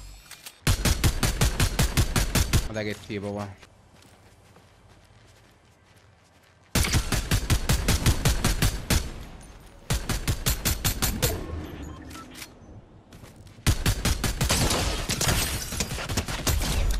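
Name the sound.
turret gunfire in a video game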